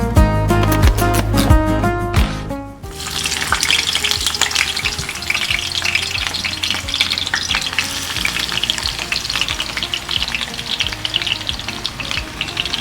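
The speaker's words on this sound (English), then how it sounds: "It's going to take 10 to 15 minutes making our onions brown in color" Sliced onions fry for beef biryani in a loud, dense, continuous sizzle that starts abruptly after a few seconds of background music, with occasional stirring scrapes; no speech.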